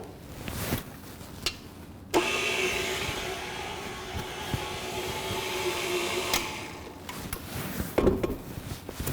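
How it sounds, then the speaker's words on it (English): A stand mixer fitted with a flat paddle works chocolate focaccia dough on low speed, a steady motor whir running for about four seconds between quieter handling sounds. "we're gonna mix this one more time on low speed"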